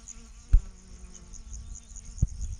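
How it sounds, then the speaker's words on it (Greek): Assorted insects buzzing around a summer vegetable garden in mid-June, a faint continuous hum with a couple of brief closer thumps. "Εδώ βλέπετε διάφορα ζουζούνια."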